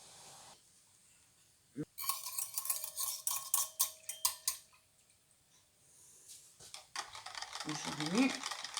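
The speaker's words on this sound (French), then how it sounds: "Je remue." Stirring of a homemade dish soap mix scented with grapefruit and blood orange essential oils, heard as bursts of scraping, clicking strokes after a quiet start, then a short pause and a further run of stirring.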